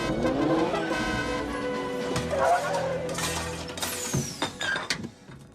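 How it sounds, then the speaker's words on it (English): A large lunch wagon pulls up in a scene from the film Caddyshack II: a loud, busy mix of mechanical clattering, rattling, and engine and gear noises with shifting tones and sharp clanks. "that was the sound of a ginormous, like, roach coach, like, lunch wagon pulling up"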